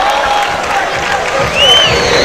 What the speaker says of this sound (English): these two getting a round of applause from the crowd here